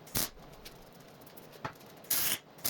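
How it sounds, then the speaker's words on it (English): Anti-spatter spray hisses from an aerosol can onto a steel welding rack in two short, close bursts, one near the start and a longer one toward the end, with faint handling noise between. "I had forgotten to put on anti-spatter spray, so I went ahead and added that."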